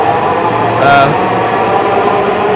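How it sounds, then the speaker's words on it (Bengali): A metro train rumbles steadily nearby as it pulls away from a station in Bangladesh, with a brief hiss of air partway through and a continuous low mechanical drone. "এই যে মেট্রো রেলটি ছেড়ে গেল"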